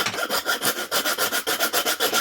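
A hand tool shreds dried poplar wood in quick, rhythmic rasping strokes, about a dozen close scrapes in steady succession with no voices.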